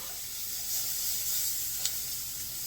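Shrimp dusted with five-spice powder sizzles steadily in a hot pan as it is stirred, a soft continuous hiss with a brief sharper crackle near the end and no talk.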